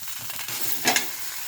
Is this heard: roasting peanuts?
yes